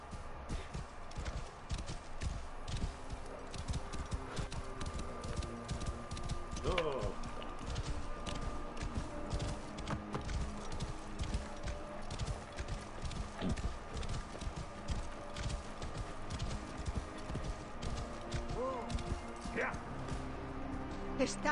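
A horse's hooves clip-clopping at a steady walking pace throughout, fairly close, under continuous background ambience and an overlaid voice, in a sword-and-ritual fantasy setting.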